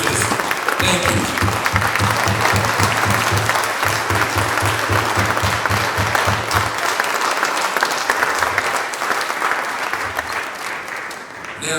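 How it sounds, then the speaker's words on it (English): A lecture audience giving a standing ovation, dense sustained applause filling the room, loud and steady before tapering slightly toward the end. "Please give Amina Adine a warm round of applause"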